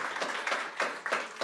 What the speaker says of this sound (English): Oh, now you are clapping for satellites.